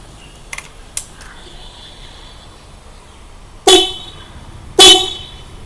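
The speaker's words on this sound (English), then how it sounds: "I could make you all hear the horn" A Hella compact disc horn fitted to a KTM Duke 390 motorcycle blares twice, loud and close, each blast about a second long, after a couple of faint clicks in a quiet room.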